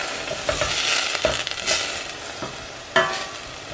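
Onions and peppers frying in a pan, a continuous close sizzle with intermittent scraping stir strokes and a sharper clack near the end.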